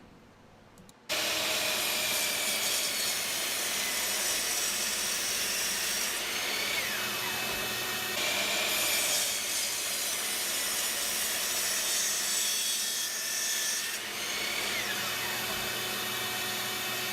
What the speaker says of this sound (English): I'm just milling it down to the exact final dimensions to fit into our slot.